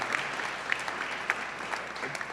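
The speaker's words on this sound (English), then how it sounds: "So how about a round of applause for the Arches team?" An audience at a hydrogen hub announcement event applauds, a steady wash of clapping at moderate distance with a few sharper claps standing out.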